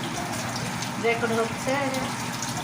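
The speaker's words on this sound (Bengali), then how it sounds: "বিকেলের নাস্তার জন্য পুরি ভাজা চলছে" Puris deep-frying in hot oil for an afternoon snack give a steady, close sizzle and bubbling hiss, with a few brief brighter crackles on top.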